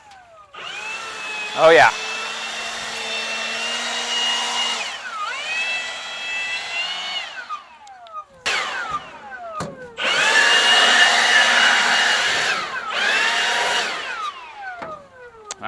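A handheld blower roars while clearing out the bed of an S10 pickup truck, running in long steady stretches broken by short pauses, with brief voices talking over it.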